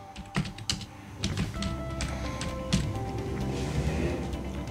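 Someone types a search into a computer keyboard, a run of fast, close, crisp key clicks with brief pauses between bursts.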